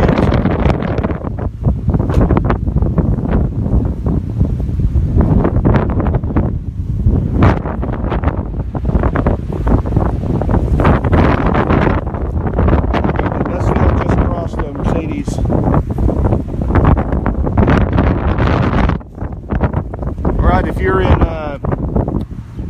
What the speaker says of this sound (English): we have sustained winds of 20, 21 miles per hour.